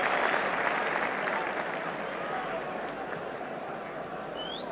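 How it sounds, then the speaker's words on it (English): Football crowd behind the goal at a 1984 Milk Cup match between Tottenham and Sunderland, a loud sustained roar and murmur of many voices that holds steady and slowly eases, with commentary-like talk over it. "that must have been pretty close by the reaction of the crowd behind the goal"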